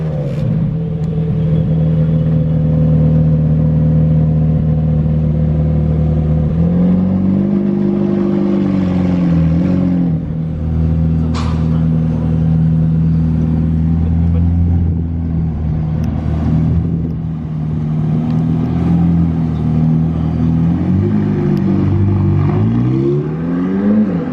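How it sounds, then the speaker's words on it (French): Two McLaren 720S Mansory supercars pull away in Monaco, a loud deep engine rumble that rises and falls through gear changes as they drive off close by. "Voilà le départ des deux McLaren"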